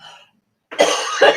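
A person coughs hard after a sharp piece of pretzel gets stuck in the throat, with a short faint rasp, a pause, then two loud, close, harsh coughs in quick succession.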